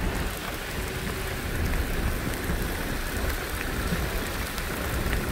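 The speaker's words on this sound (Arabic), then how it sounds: "المشاهدين الكرام شوفوا على الشتا" Heavy rain pours steadily in Al Hoceima during a storm, a dense continuous hiss of drops drumming on surfaces, loud and unbroken with no voices.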